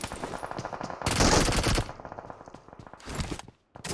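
Rapid automatic gunfire from above in PUBG Mobile, close and loud, rattling in quick repeated bursts with a heavy, dense barrage in the middle and a final volley before a brief silence.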